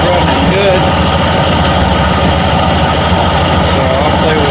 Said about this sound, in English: Idling at 750 RPM.